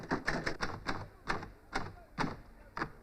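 Old manual typewriter with sticking keys, struck in a quick irregular series of about nine sharp clacks over three seconds, close and fairly crisp.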